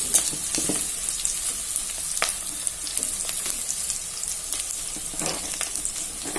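Ginger garlic paste hits hot oil with onion and green chillies in a pan, a loud, continuous close sizzle with repeated scraping stirs and crackles.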